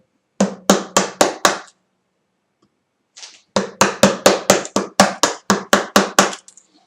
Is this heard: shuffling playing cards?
no